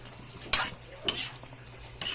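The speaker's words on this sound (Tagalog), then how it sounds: "halo-haloin na natin ang ating upo ang sardinas" A spoon stirs sautéed bottle gourd with sardines in a pan, giving three separate scraping, clinking strokes about half a second apart over a faint low hum.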